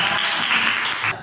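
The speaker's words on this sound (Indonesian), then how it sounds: "Ya, tepuk tangan." Audience applause after a group presentation at a university classroom session in Malang, a steady dense patter of clapping hands that continues throughout before thinning out at the end.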